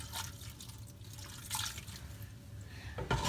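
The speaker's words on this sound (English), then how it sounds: "Then we're going to add about a cup of vinegar." Vinegar, about a cup, is poured into a pot of diced potatoes, giving a soft trickling, splashing sound over a few seconds with a louder splash at the end.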